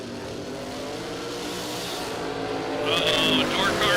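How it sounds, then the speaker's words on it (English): Dragsters at a drag racing event, a steady loud engine roar that rises near the end with high whining tones, while an announcer's voice carries over it. "Leslie, trying to punch a ticket into the final round and making it an all dragster final"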